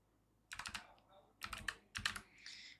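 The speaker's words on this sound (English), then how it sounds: "all you have to do is literally type in the pair" Keystrokes on a computer keyboard while entering a trading pair into a charting site, coming in three quick clattering bursts of close, fairly quiet taps separated by short pauses.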